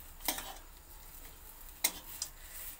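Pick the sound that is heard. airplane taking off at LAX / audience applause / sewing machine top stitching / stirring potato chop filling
stirring potato chop filling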